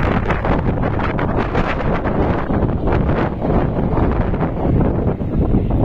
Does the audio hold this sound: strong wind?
yes